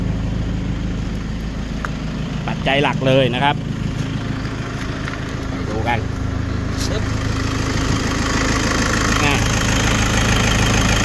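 The diesel engine of a 2011 Toyota Commuter 2.5 van drones low and continuous at idle throughout, with someone talking over it near the microphone.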